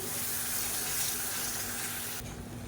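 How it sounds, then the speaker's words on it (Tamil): Water runs steadily from a tap into a mixer jar, a close, continuous hissing splash that stops abruptly near the end. "இப்போ மிக்சி அலசிட்டு கொஞ்சமாக தண்ணி சேர்த்துக்கிறேன்"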